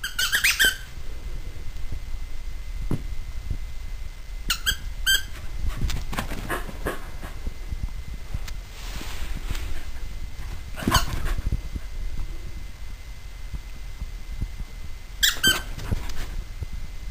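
A dog's rubber duck toy squeaks in sharp repeated bursts at the start and again around five, eleven and fifteen seconds, with the dog's whimpering and scuffling in between, close and fairly loud.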